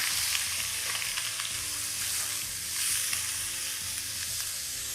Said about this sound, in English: Now we're going to cook this till the prawns turn pink.